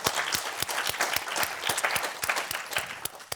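A crowd applauds at a leadership storytelling session, sparse-to-moderate clapping with distinct individual claps standing out in an uneven rhythm, close and fairly loud, lasting a few seconds.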